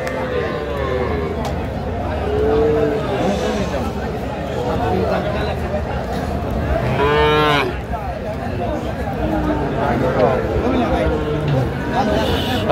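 Sahiwal bull calves moo at a busy Faridpur cattle market, several long lowing calls rising near and far above a constant crowd babble, with people talking and bargaining throughout.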